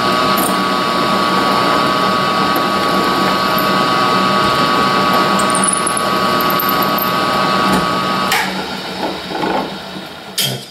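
A drill press bores into wood while making a wooden hand plane, with a loud steady motor whine and grinding cut, then the drill winds down near the end into a few clunks and rattles.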